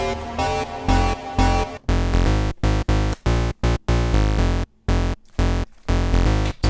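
Layered future bass synth chords built from an electric-style patch and a square-saw patch in Massive, loud and bright, stabbing in a choppy rhythm with sharp gated gaps between hits, no voices.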